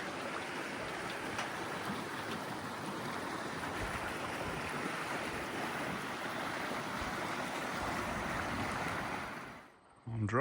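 The Snowy River rushes below the Illawong suspension bridge in alpine country, a broad, steady hiss of flowing water with some wind, constant and fairly close, cutting off sharply at the very end.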